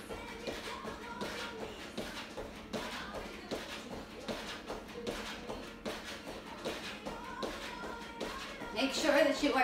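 Rapid rhythmic clapping of hands behind the back during clap back jacks in a HIIT workout, steady repeated claps with shuffling feet, an instructor's voice over them.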